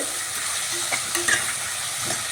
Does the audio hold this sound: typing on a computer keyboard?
no